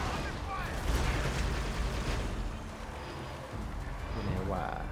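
Grenade and fire-bomb blasts in Halo: Spartan Assault, a top-down shooter, thumping continuously amid dense gunfire and game effects, loud and busy throughout with no pause.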